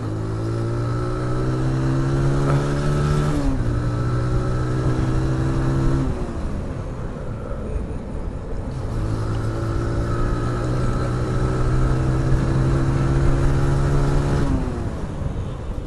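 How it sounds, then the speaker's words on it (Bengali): A modified TVS Apache RTR 160 motorcycle accelerates through the gears, its engine note rising in repeated strong pulls with short drops at each shift, close and loud, with a quieter lull midway before another climb. "মার্শাল্লাহ এক্সেলেশন খুব ভালো কারণ বাইকটা একটু টুকটাক মট করছি"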